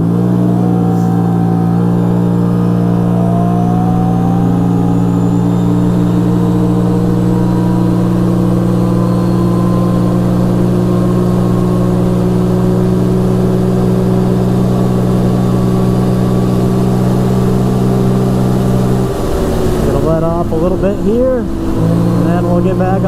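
An ATV engine held near its rev limiter at about 7,500 RPM in fifth gear gives a loud, steady high drone under speech, then rises and wavers briefly near the end as the ride goes on.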